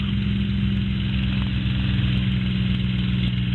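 A Spitfire's engine throttled back to 2400 RPM, a loud, steady, low throbbing drone with a pulsing rhythm, heard from close by inside the aircraft.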